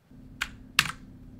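Two quick, crisp clicky keystrokes on an AUKEY 87-key mechanical keyboard with imitation blue switches, close and isolated against faint background hum.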